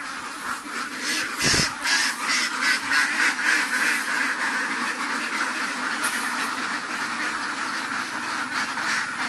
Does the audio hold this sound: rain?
no